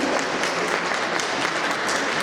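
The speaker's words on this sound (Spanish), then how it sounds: "Un aplauso para él" An audience at an academic congress claps in sustained, even applause for a few seconds, a dense crowd of hands at moderate loudness.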